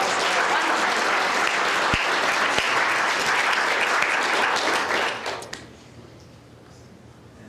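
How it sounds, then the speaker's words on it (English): Audience applause for the cooks at a volunteer dinner, steady and full for about five seconds with a couple of sharp knocks mixed in, then quickly dying away to a quiet room. "Let's give a round of applause."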